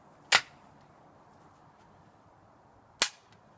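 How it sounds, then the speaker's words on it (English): A .38 Special round fired from the .357 Magnum barrel of a Chiappa X-Caliber survival rifle gives two sharp, loud single shots about three seconds apart, each decaying fast into a quiet background. "Next, we got a 38 special in our 357 Magnum barrel"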